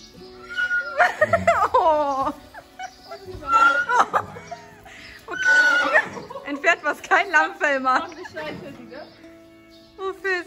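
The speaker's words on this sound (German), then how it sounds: "Laura, sie ärgert dein Pferd." A horse whinnies and neighs several times up close, loud drawn-out calls separated by short pauses, with people talking between them.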